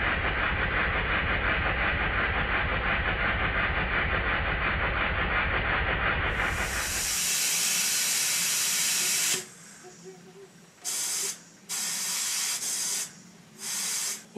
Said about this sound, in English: A nice little engine, not too powerful, but they are really useful for driving dynamos.